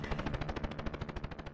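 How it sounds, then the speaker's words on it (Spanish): Rapid automatic gunfire in the Templus Triad video game demo, a steady burst of about twenty evenly spaced, loud shots heard alone. "¿Son tiros? ¿Sí? Son tiros."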